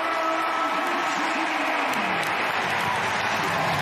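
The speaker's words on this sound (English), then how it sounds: "the 800 Virginia fans are cheering loud because I can hear them" Loud crowd of Virginia fans cheering at a college football game against Duke, a sustained roar of voices that swells and holds throughout.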